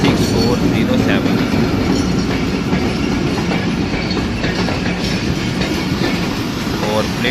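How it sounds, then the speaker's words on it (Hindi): A Pakistan Railway express train, the 148 Down Mianwali Express, runs at night near Sargodha with a loud, steady rumble and rhythmic clickety-clack of wheels on track, close and continuous throughout. "वन 148 डाउन मियाँ वाली एक्सप्रेस को आज लीड कर रहा था"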